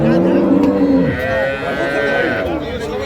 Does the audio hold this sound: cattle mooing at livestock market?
yes